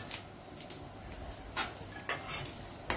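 Cumin and crushed roasted peanut powder sauté in hot oil for okra thecha, a soft, even sizzle broken by a few sharp clicks of a spoon against the pan.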